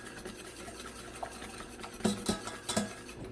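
A whisk or spoon stirs a cold mixture of milk, eggs and sugar for a strawberry tart's cream, a soft steady scraping rhythm with a few louder clinks against the bowl near the end.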